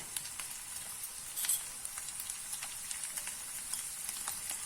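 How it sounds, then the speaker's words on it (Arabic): Onions sauté in a pan with a small spoon of butter, olive oil and vegetable oil, giving a soft, steady sizzle with faint crackles and occasional stirring clicks, fairly quiet and close. "وغادي نشحر البصل ديالنا جيدا"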